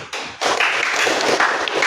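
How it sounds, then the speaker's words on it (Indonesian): A classroom group bursts into applause for an answer, a dense, loud wash of many hands clapping together that begins abruptly after a brief thud and continues steadily to the end. "tepuk tangan dulu"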